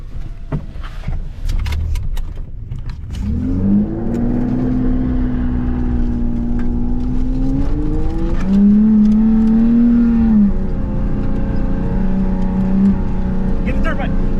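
A truck doing donuts near Prosser Lake: the engine rises into a steady, loud revving drone that swells and falls across several seconds, with people talking over it.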